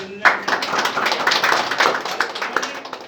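A team audience at a sales meeting claps loudly, close and strongly, a run of sharp, distinct claps that starts abruptly and keeps a fairly even, brisk rhythm.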